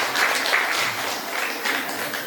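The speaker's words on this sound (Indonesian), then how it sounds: "Tepuk tangan dulu untuk yang miskin." Audience applause at a religious sermon gathering, a steady wash of many hands clapping at moderate volume throughout, with no distinct individual claps standing out.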